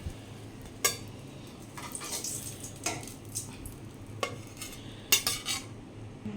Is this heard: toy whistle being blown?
no